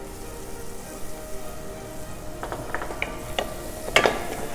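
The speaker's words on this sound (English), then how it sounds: "I'm adding some cubes of butter to start it up. You'll see the butter starts melting immediately." Chopped garlic and leeks sauté in melting butter for mushroom risotto, making a soft, even sizzle broken by a few crisp crackles and spatters near the end.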